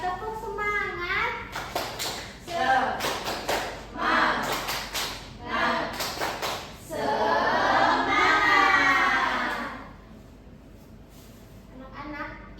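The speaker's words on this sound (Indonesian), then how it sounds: "Coba tepuk semangat" A class of schoolchildren chanting and clapping the rhythmic tepuk semangat routine, bursts of rapid claps between shouted syllables building to a loud group cheer, then fading to quiet room noise.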